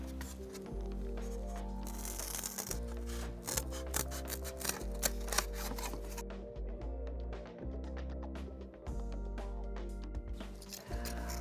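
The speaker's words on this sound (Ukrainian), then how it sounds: "беремо наші чарівні ножиці і обережно ріжемо" Scissors snip carefully through homemade plastic plant labels for gladiolus planting, a series of crisp cuts and rustling handling noises close by, irregular in rhythm, alone without talk.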